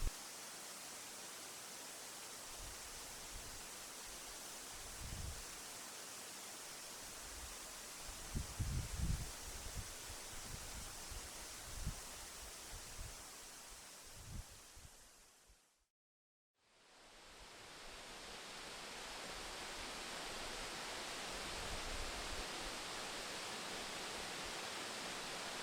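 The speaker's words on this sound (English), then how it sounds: "Tiffany is one of Hamilton's most serene waterfalls." Tiffany Falls, a waterfall in a Hamilton forest of sugar maple, beech, ash and walnut, gives a steady broadband rush of falling water, briefly cut to silence midway before the roar returns, with low rumbles in the first half.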